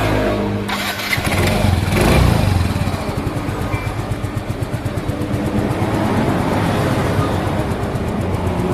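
A Yamaha Mio i 125 scooter engine, just after a camshaft repair, idles steadily up close with a rapid, even putter, rising briefly in a rev near the start before settling back to a smooth idle.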